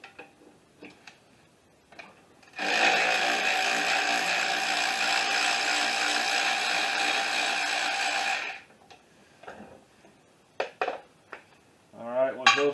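A ratchet backs out 13 mm bolts from the front strut brackets that hold the brake line and ABS sensor line on a 2012 Jeep Patriot. It makes about six seconds of loud, rapid, continuous clicking, with scattered tool clinks before and after and a voice at the end.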